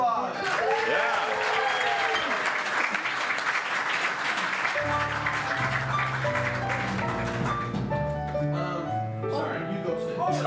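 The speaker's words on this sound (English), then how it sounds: "Give him a big round of applause." An audience at a musical-themed show claps and cheers, a broad steady round of applause with music or sung tones rising underneath toward the end.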